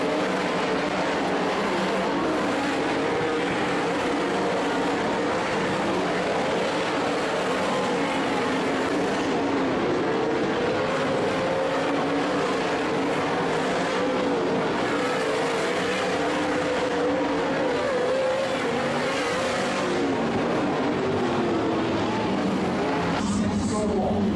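360 sprint cars roar around the Skagit Speedway track in a heat race, a dense continuous engine howl with rising and falling passes, mixed with crowd and announcer voices.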